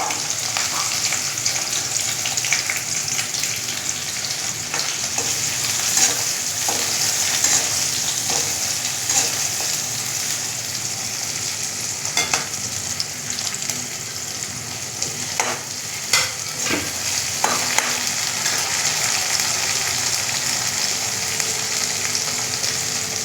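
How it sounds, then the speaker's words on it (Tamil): Onions fry in a pan, giving a continuous close sizzle with scattered crackles and occasional scraping stirs, loud and steady throughout. "நல்லா பொரியுது. நம்ம வெங்காயம்"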